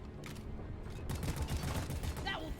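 Weapon fire from the video game Deep Rock Galactic, with a rapid run of clattering shots and mechanical clicks, loud against the rest of the game sound, and a voice talking over it.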